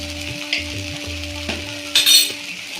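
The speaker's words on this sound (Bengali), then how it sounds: "মশলাটা আমি একটু কষে নিয়েছি" Spice paste with ground coriander sizzling in a small amount of oil in a pan for a rohu fish and yam curry, a steady close fry with a few soft clinks and a louder hiss near the end.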